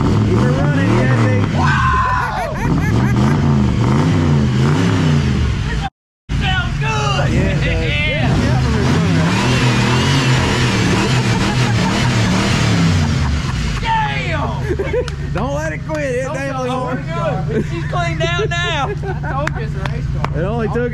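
A Ford Crown Victoria race car engine runs loud and steady, revving up and down, with a brief dropout early on, while people shout and talk over it.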